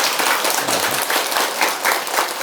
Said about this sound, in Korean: 박수 한번 더 보내줍시다